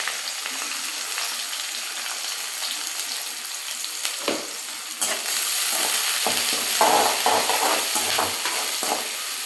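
Onion and curry leaves fry in hot oil in a pan while being stirred, giving a steady close sizzle with scraping spoon strokes that grow a little louder in the second half, with no voices.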